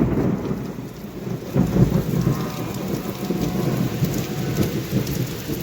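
Heavy rain mixed with falling hailstones pours down outdoors in a dense, continuous hiss and patter, close and steady throughout, with no voices.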